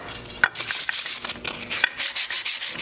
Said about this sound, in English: I'm just going to clean them up a bit with some sandpaper round over the edges so they're not sharp.